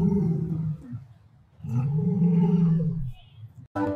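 A lion roar sound effect: two loud, drawn-out roaring bursts separated by a short lull, with a third starting abruptly at the end.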